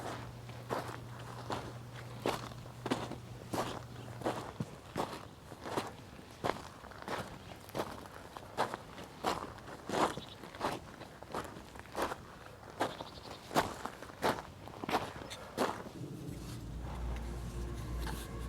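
Steady footsteps crunch along an ancient outdoor path, evenly paced and fairly close, about two steps a second throughout, with a low hum early on and a deeper rumble near the end.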